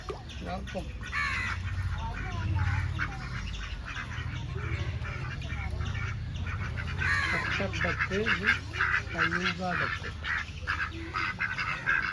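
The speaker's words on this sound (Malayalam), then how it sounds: "അലങ്കാര താറാവ് ഇത് കുഞ്ഞു ചെറിയ കഴുത്തൊക്കെ ഉള്ള കുഞ്ഞൻ താറാവാണ്" Small ornamental ducks of a Netherlands-origin breed call repeatedly with short nasal quacks and honks, close by, mixed with people talking.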